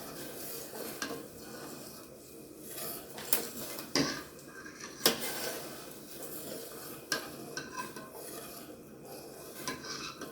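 A utensil stirs and scrapes chicken and dumplings inside a pot, with intermittent clinks against the metal and a soft bubbling underneath as it returns to a boil.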